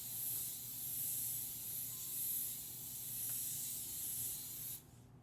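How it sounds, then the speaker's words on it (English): Cooking spray hisses steadily onto a cake pan for a cookie cake, a close, continuous aerosol spray lasting several seconds before cutting off abruptly. "And then we're going to grease our pan."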